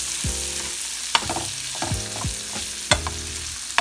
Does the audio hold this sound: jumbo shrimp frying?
yes